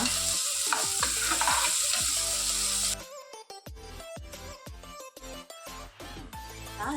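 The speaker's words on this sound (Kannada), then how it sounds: "ಚೆನ್ನಾಗಿ ಫ್ರೈ ಮಾಡಿಕೊಳ್ಳುವ" Chickpea gravy frying in a pan: a loud sizzle with stirring for about three seconds, then quieter sizzling broken by repeated scraping spoon strokes, close up and without speech.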